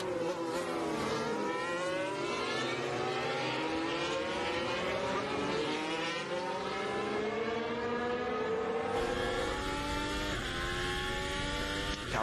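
Formula 1 car at the 2021 Austrian Grand Prix third practice session, its high-revving engine whining continuously with rising and falling pitch through gear changes, loud and sustained throughout.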